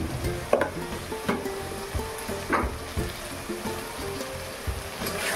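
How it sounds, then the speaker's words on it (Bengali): Chili powder, salt and other spices frying in oil for a jackfruit curry, with a steady crackling sizzle and periodic scraping stirs of a spoon against the pan, close up and with no talking. "দেখুন কত সুন্দর ভাজা ভাজা হয়ে আসছে"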